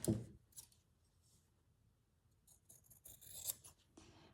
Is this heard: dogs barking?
no